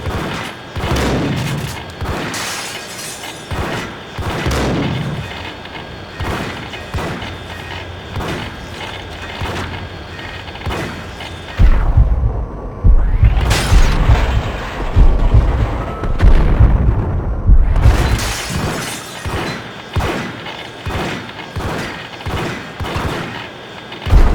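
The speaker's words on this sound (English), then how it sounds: "they're shooting each other there" Sustained gunfire from a shootout in the game Max Payne: dense, overlapping shots and booming bursts, loud and continuous, swelling into heavier low rumbling blasts midway before returning to rapid fire.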